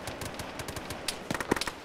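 Rapid automatic gunfire in an Arma 3 battle, a fast rattling string of shots with a denser, louder burst near the end, fairly close and sharp with no voices.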